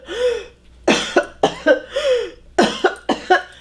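A person coughs forcefully several times in quick clusters, close and loud, a demonstration of the painful coughing that follows abdominal gallbladder surgery, with short throat-clearing breaths between bursts.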